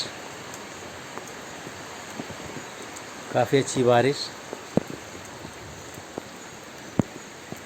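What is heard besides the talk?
rain falling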